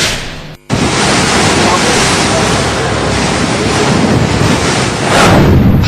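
Sea waves crash at high tide on the Mumbai shore during heavy monsoon weather, a loud broadband roar of surf mixed with strong wind buffeting the microphone, briefly cutting out near the start and then swelling again at the end.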